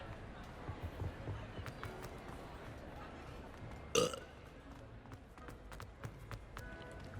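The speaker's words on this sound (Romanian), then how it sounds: "Mai râgâi, că nu-i frumos." A game character in Hogwarts Legacy lets out a single short, loud burp partway through, standing out above a steady bed of game ambience and soft incidental noises.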